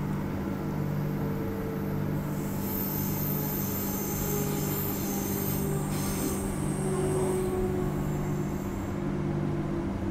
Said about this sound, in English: they do have another train here in Claremont Sidings.